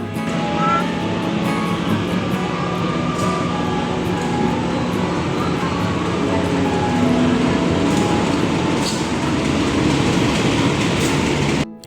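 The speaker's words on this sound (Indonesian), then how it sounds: "Hingga pada akhirnya kereta datang dan kami melesat menuju stasiun Cimahi" A train rumbles and rattles continuously at close range, steady wheel noise and clatter filling the whole stretch without talk, on an Indonesian commuter line heading to Cimahi station.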